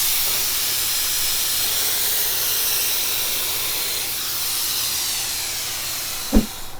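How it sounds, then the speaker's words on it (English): Activator sprays steadily onto hydrographic film with a continuous close hiss lasting several seconds, ending with a brief low thump. "we're gonna go ahead and spray this and show you guys what you should see whenever you activate"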